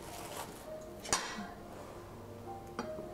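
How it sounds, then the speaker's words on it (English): A spoon scoops chilled cherry soup into a bowl, giving two light, sharp clinks against the dish over quiet room tone. "We're just going to spoon it into the bowl"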